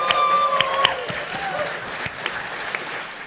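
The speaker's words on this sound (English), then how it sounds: "I'm honored that you guys clap for that." A comic-con panel audience claps, with a sustained harmonic tone sounding briefly at the start, then the applause thins into scattered, fading claps.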